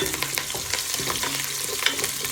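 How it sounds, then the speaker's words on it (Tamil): Onion sautéing with cumin, fennel, nigella seeds, garlic, chilli, rampe and curry leaves in a pan makes a loud, dense sizzle close up, broken by quick scraping strokes of stirring. "வெங்காயம் நல்லா வதக்குவோம்"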